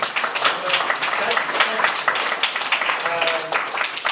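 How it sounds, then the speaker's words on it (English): Audience applause after a reading at a Welcome to Reality event: a crowd claps continuously and fairly loudly, with voices and cheering mixed in throughout. "So a round of applause for Hillary for telling me to applaud for things"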